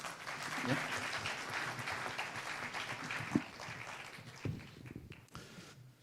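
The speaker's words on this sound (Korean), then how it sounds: "큰 박수 부탁드리겠습니다" An audience at an international labour law symposium in Korea applauds a speaker onto the stage, a soft, continuous wash of clapping heard from a distance in a large hall, with a couple of louder thumps and the applause tapering toward the end.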